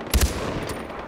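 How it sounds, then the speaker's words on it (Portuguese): Gunfire in the video game Far Cry 4: two quick loud shots close together, then a fainter third report, short sharp bursts over a low game ambience. "eu também tô escutando barulho de tiro"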